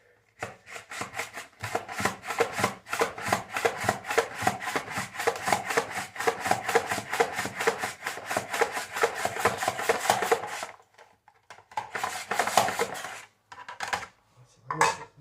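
Raw potatoes rasp rapidly across a portable folding mandoline blade, cutting rounds in a fast continuous rhythmic scraping that stops briefly, then resumes in shorter bursts near the end.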